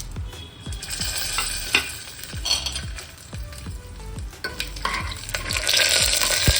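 Whole spices frying in hot oil for Andhra-style paneer pulao, a bright crackling sizzle with repeated ladle knocks and scrapes against the pan, building louder toward the end.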